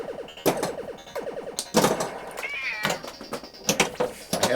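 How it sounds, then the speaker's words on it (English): Elderly, hard-of-hearing cat meowing loudly and repeatedly, several drawn-out yowls in quick succession, close to the microphone with clatter and faint background noise between calls. "I have a noisy cat. My apologies for the cat."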